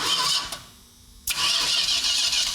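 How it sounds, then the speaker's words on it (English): A 1971 Dodge Super Bee with a 383 engine and four-speed, a long-stored barn find, cranks over in a steady, loud, close churning that drops out briefly mid-way and then resumes. "let's just see if it cranks over like it's supposed to"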